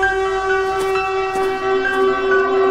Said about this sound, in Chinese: 身后发出了一阵警报声